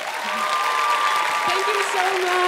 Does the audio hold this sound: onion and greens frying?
no